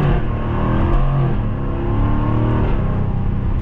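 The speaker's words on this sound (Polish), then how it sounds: "F-Type z 5-litrowym V8 na kompresorze, drący się jak wściekły kot" A supercharged 5.0-litre V8 in a 2023 Jaguar F-Type R roars as it accelerates, a loud, close, continuous engine note with rising harmonics and a raspy snarl, heard alone with no talking.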